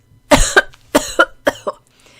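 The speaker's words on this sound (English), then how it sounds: "Then she started coughing again." Three pairs of sharp, close coughs, each burst quickly followed by a second, with brief pauses between them.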